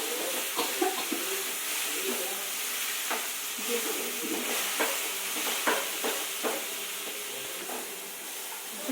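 Tempering for mango pulihora sizzles steadily in a hot pan, a continuous bright hiss of frying oil and spices punctuated by small crackles and pops as it is stirred, with no talking.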